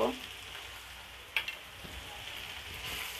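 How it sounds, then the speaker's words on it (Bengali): Chili powder, turmeric and salt fry in a pan with a continuous bright sizzling hiss and one sharp utensil clink partway through, with no voice present. "এখন মশলাগুলোকে ভালোভাবে কষিয়ে নিব।"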